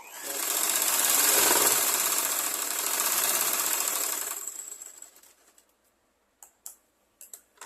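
A sewing machine stitches a blouse in one steady, loud run of rapid whirring that slows and stops, followed by a few faint clicks near the end.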